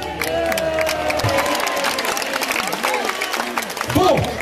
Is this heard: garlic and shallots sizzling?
no